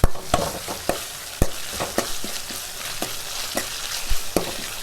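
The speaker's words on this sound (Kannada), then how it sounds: "ನೋಡಿ ಈಗ ಅದು ಫ್ರೈ ಆಗ್ತಾ ಇದೆ" Mint leaves fry in a pan for mutton leg soup, a continuous hiss of hot oil broken by regular sharp scrapes and taps of a spatula stirring, close and fairly loud, with no voices.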